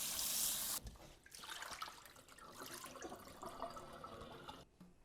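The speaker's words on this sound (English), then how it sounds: "Now I'm gonna rinse it with salt." Meat is rinsed under running tap water in a sink: a strong gush at first, then a softer splashing flow as the meat is turned under the stream, close and steady.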